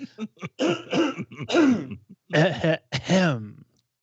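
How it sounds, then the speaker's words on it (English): A close voice clears its throat several times in a row, a series of short throaty, voiced grunts separated by brief pauses. "Let me clear my throat."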